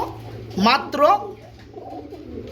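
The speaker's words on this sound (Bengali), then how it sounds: "হলুদ কালারের মধ্যে খুবই চমৎকার আরেক জোড়া কবুতর রয়েছে, জার্মানি চাইনিজ আউল" German Chinese Owl pigeons, a yellow pair, give a couple of close, soft rolling coos, with a steady low hum beneath.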